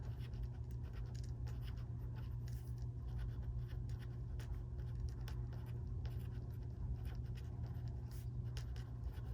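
A pen or pencil scratches steadily across paper while a fraction problem is written out, a continuous close scratching with a low steady hum beneath and no talking.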